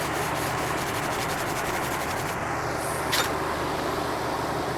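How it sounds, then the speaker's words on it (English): 220-grit sandpaper rubbing glue residue off a ski base makes a steady, close, continuous scraping hiss that runs without a break, with faint road traffic in the background. "I'm now just gonna sand off this little bit of residue of glue that's left over."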